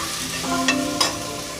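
Onions sauté to golden brown in a pan for prawn biryani, giving a continuous close sizzle with a couple of light stirring knocks partway through.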